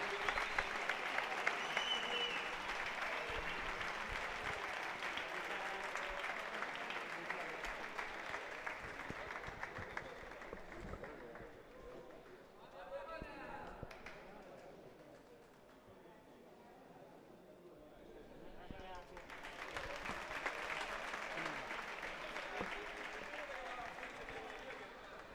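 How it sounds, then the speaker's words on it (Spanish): Audience at a national foosball championship applauding steadily for the whole stretch, a dense crowd clapping that eases in the middle and swells again, under a voice over a PA. "pido un aplauso a un ejemplo de padre e hijo como son Fabio, Freddy, desde Andalucía"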